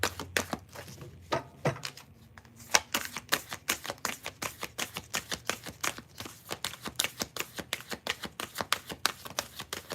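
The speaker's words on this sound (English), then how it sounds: "Said I wasn't going to shuffle like this because I didn't want the cards to fall out a lot" A deck of tarot cards is shuffled by hand in a brisk, loose overhand style, producing a steady run of rapid, crisp slaps and flicks close to the listener, with no talking.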